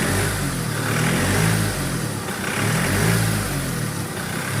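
A 2013 Chevrolet Colorado engine runs close by, settling from idle into gentle swells of revving, with a steady rough mechanical hum that rises and falls in two slow waves.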